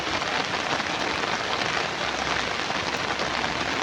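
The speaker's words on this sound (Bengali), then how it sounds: "এই তো দেখো কত বৃষ্টি হচ্ছে" Heavy rain comes down on a rooftop in a dense, constant patter and hiss, close and loud, with a slightly uneven texture of drops striking surfaces nearby.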